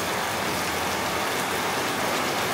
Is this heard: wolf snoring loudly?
no